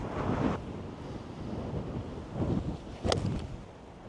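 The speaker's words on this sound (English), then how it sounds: "Oh, wind." Strong, gusty wind buffets an open golf course at The Ridge in Sydney, a steady broadband roar with louder surges near the start, middle and end and a brief sharp crackle of wind against the microphone.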